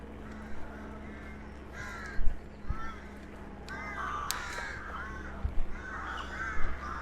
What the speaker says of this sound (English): And crows.